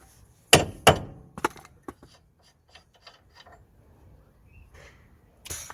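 A rawhide mallet knocks a drive shaft inward to free it from the wheel hub on a Nissan Note. Two loud, sharp knocks sound close, then a third, followed by several fainter taps and clinks with a louder knock at the end.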